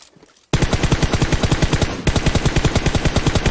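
Rapid machine-gun fire in PUBG Mobile in long, loud bursts after a short quiet moment, with a brief break between the bursts.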